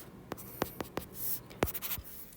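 Pen or marker strokes drawn on a surface to relabel points in a high school geometry problem: a quick series of short, close scratchy strokes, then a longer sweep and a few more marks, quiet with no talk.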